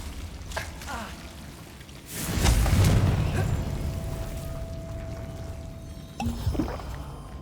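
The Confringo fire spell in Hogwarts Legacy bursts with a deep, rumbling boom that swells and slowly fades, and a second smaller burst follows a few seconds later.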